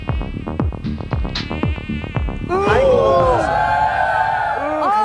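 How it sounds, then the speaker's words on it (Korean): A housefly buzzing close by, as if right at the ear, in an evening kitchen scene; a steady, wavering whine rises over the second half after talk and clattering sounds fill the start. "귀에 파리가 들어왔나 봐. 계속 잉잉거리네."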